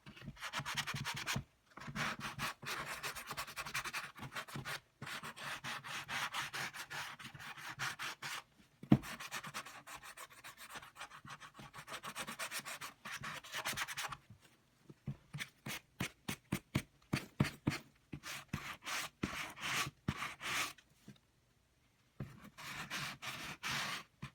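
A hand tool pressed and rubbed over embossed copper on a cigar box, giving close, dry scratchy strokes, steady at first and then in short rhythmic bursts with brief pauses.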